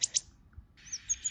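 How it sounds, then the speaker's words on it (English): Wood warbler song: two sharp high chirps at the start, then a run of thin trilling notes with a few accented peaks, clear and alone. "Wood warbler."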